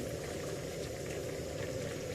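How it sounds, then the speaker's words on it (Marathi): Rawas (Indian salmon) fish curry bubbling at a rolling boil in a pot, a steady low gurgling simmer heard close and quietly, with no voices. "रावसचं कालवण तयार झालेला आहे तर मस्त उकळी आलेली आहे"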